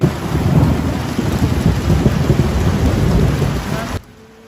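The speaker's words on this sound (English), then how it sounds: "Lightning and thunder were followed by hailstorms and heavy rain in Tokyo" Heavy rain and hail pour steadily over Tokyo with low rumbling thunder underneath, then cut off abruptly near the end.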